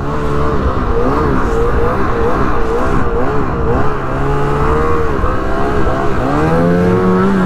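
Snowmobile engine revving hard on a snowy trail in Illinois, loud and close, its pitch rising and falling in repeated sweeps as the throttle opens and eases.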